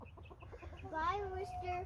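On a farm on a winter morning, hens cluck in a soft repeating patter before a rooster lets out a drawn-out crow nearby, with other birds murmuring underneath.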